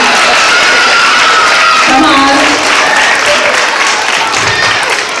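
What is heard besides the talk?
audience applause for parents and grandparents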